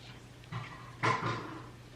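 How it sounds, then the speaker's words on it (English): A dog in the background gives a couple of soft whimpers and a short muffled bark, faint and somewhat distant in an indoor room. "That's my dog."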